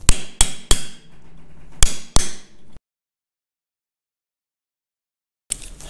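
Sharp hammer blows collapse the metal seal housing inward on a Caterpillar D2 track roller, with five loud close strikes in quick succession, then silence, then a final knock.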